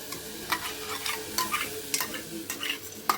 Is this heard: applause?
no